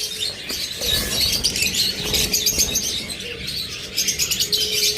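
Pet birds such as lovebirds, cockatiels, budgerigars and finches chirp and tweet busily in a bird shop, with dense overlapping calls, some cooing and wing flutters, close and lively throughout.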